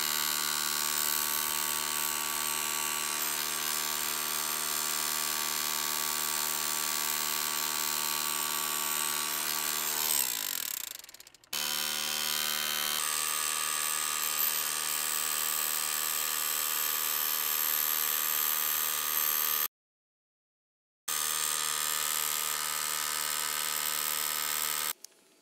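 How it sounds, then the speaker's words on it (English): Demolition hammer in hammer mode driving a grounding rod for an electrical panel: a loud, steady, buzzing mechanical hammering runs continuously up close, briefly cutting out twice before resuming, with no talk. "Here is our demo hammer, and it literally just fits right over top of that. Put it in hammer mode and let it sink in."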